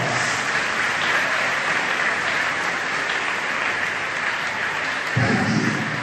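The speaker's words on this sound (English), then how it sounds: "Give her once again big round of applause" Audience applauds a woman who joined the Indian Army at a school Independence Day celebration: a dense, steady wash of many hands clapping, loud and continuous with no talk over it.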